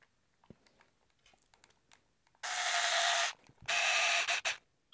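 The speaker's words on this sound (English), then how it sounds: "I've put a bit of lube on those screws so that they go in a little bit easier." M5 machine screws being driven into a 3D-printed plastic track clamp, heard as two sustained bursts of loud grinding, buzzing drive noise separated by a short gap, with small clicks and handling sounds before them.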